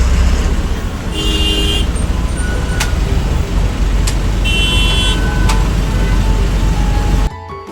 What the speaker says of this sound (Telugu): ఇక్కడ ట్రాఫిక్ కూడా హెవీ ఉంది